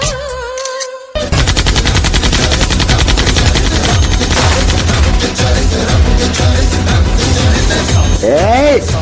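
A gunfire sound effect in a school dance performance about Operation Sindoor: after a short musical opening, rapid continuous bursts of shots roar loudly over a dense, loud backing track.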